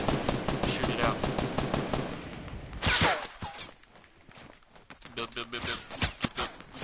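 Rapid automatic gunfire rattles in a shooter video game, a fast stream of shots for about three seconds, then quieter scattered pops and clicks while a player talks over it.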